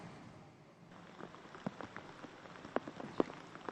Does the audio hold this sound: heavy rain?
yes